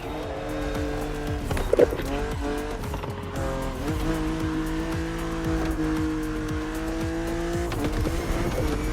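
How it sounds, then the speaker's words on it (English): A BMW Z4 E89 coupe cabriolet drives in the racing video game The Crew Motorfest, its engine holding a steady, loud drone with shifting pitch and a brief sharp burst near the start, continuing unbroken throughout. "Your car is the Z4 E89, a very cool model for two major reasons."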